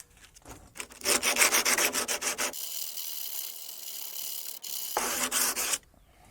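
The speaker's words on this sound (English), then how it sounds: "try and take some of the metal off and the rust. That's better. Now sand it." Rust is sanded off a Skoda Fabia bonnet, first in quick rhythmic rasping strokes, then as a steadier continuous scrubbing, then a final burst of strokes, all close and without speech.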